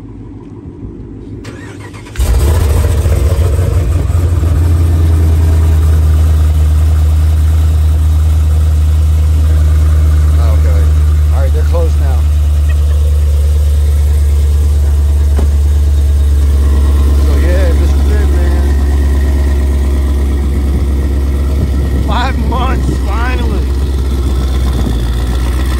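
A 1100 hp Jeep Trackhawk cranks and catches after about two seconds of quiet, then settles into a loud, deep, steady idle rumble. People talk briefly in the background over the engine.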